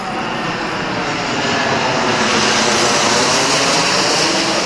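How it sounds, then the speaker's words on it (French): An airplane passes overhead as a loud, broad roar that swells steadily across the whole stretch, with no other sounds. "il y a un avion qui passe, je laisse passer"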